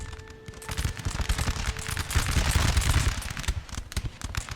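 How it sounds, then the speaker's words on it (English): Ragged musket volleys from Prussian guard regiments in the Napoleon Total War video game, many shots crackling together in dense overlapping bursts that swell and roll on for several seconds over a battlefield rumble. "once these guys open fire, we're gonna cut these guys down like grass"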